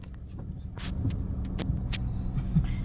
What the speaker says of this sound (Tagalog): nagda-drive na po si Mama